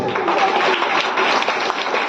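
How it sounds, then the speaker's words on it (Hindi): A seminar audience bursts into loud, dense applause, close and continuous throughout the short stretch. "एक बार जोरदार तालियां होनी चाहिए।"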